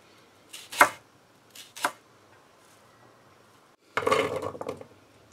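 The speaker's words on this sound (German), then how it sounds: "Jetzt den Lauch in feine Ringe." Leek being chopped into fine rings on a board for a vegan cauliflower stew, with two sharp close knife strikes followed by a quicker burst of rapid chopping, with quiet pauses between.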